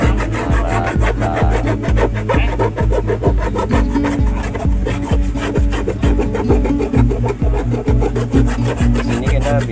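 Coarse file scraping across a patched, repaired car stop lamp, a dense steady rhythm of rasping strokes, loud and close with no talk.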